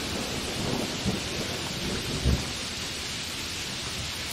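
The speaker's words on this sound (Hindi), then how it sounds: "तेज बिजली और गरगराते बादलों के बीच आंधी और बारिश।" Heavy rain hisses steadily through a thunderstorm, with two low rumbles of thunder breaking through, the stronger one late in the stretch.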